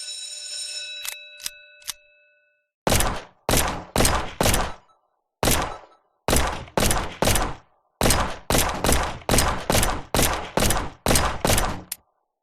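Gunfire on the shooting range in the Battleline VR video game: after a few brief electronic beeps, sharp loud shots ring out in quick bursts and steady single reports, one after another for about nine seconds.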